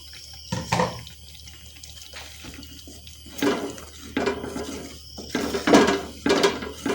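Water splashing and pouring in short bursts into a mixer jar, with clinks of the container between pours and quiet gaps in between.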